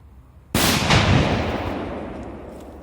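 A small firecracker from a freshly unboxed pack goes off with one loud, sharp bang. A second crack follows close behind, then a long rumbling decay fades over the next two seconds, with no voices.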